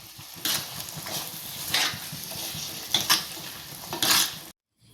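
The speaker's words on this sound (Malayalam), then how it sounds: "മസാലയും വെള്ളപ്പയറും എല്ലാം കൂടെ നല്ലപോലെ ഒന്ന് മിക്സ് ചെയ്തെടുക്കാം" Masala and cooked white cowpeas being stirred together in a pan: a spoon scrapes and clatters in repeated strokes, each one louder than the soft frying sizzle between them.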